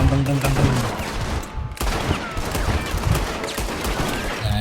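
Rapid bursts of gunfire from the video game Red Dead Redemption during a train robbery mission, volleys of shots crackling in quick succession with a brief lull midway.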